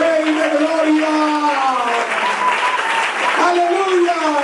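Church congregation applauding loudly and steadily for several seconds, with a voice singing or speaking over the continuous clapping.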